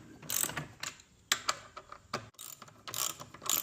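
A ratchet clicks in short, quiet bursts while bolts are tightened back onto a Toro machine, each run of rapid pawl clicks close by and separated by brief gaps.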